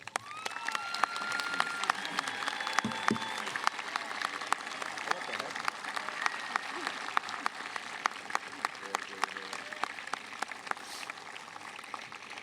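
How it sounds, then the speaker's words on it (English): A high school graduation audience applauds scholarship recipients, a long, continuous spatter of many people clapping, even and sustained with occasional sharper claps and some crowd murmur underneath, heard from a moderate distance. "I'd like all the scholarship recipients to stand for a well-deserved round of applause."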